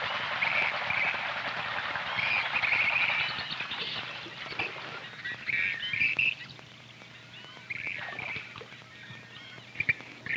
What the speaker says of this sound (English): The display called rushing is where the excited birds partially spread their wings, arch their necks, and literally run on the surface of the water